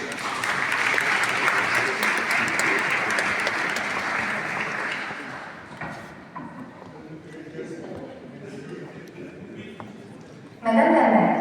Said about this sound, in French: on peut tous les applaudir très fort